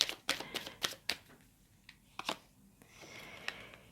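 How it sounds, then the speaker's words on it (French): An oracle card drawn from a deck: a quick run of crisp clicking snaps and papery flicks, close and quiet, then a few scattered taps and a soft rustle trailing off, with no talking. "Alors, on va tirer une carte sur la suite."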